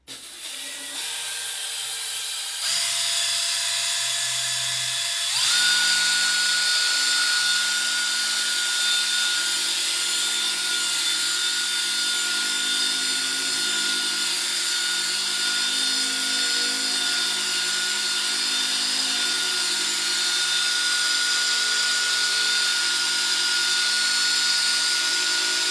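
A power sander works on wood with a continuous high whine and hiss that holds steady for the whole stretch after a short start-up.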